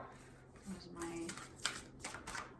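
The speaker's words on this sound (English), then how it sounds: "so I'm shuffling, and I have the Viking Oracle here" Viking Oracle cards are shuffled by hand, a few soft riffling flicks and taps, faint and close, with brief murmured speech nearby.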